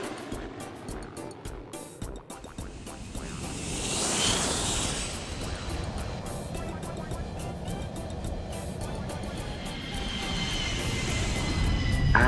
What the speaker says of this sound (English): With a rumble and a whoosh, the plane soars up into the air.